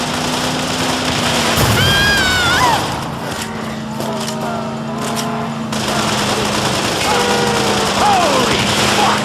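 Rapid automatic gunfire in the game Call of Juarez: The Cartel, a dense continuous rattle mixed with game music tones and shouting voices, loud throughout.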